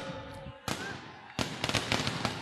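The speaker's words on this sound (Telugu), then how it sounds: "చిరంజీవి గెలిచినప్పుడు బ్రహ్మాండంగా బాణసంచా పేల్చాలి, కానీ ఇప్పుడే పేల్చేస్తా ఉన్నాడు." Fireworks going off at a political rally in Mangalagiri, with a loud sudden burst followed by a rapid run of sharp crackling bangs against a background of crowd noise.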